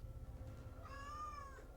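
A cat meows once in a drawn-out, rising-then-falling call, close and clear over a low steady room hum.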